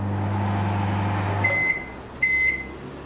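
A microwave oven hums steadily, then the hum stops and the oven gives two clear high beeps spaced apart, close and loud against faint background noise.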